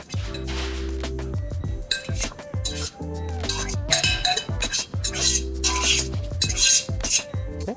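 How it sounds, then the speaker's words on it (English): Scallop donburi ingredients are stirred in a bowl, with repeated clinks and scrapes of a utensil against the dish in bursts, close up and without talking. "Mix it all nice and even"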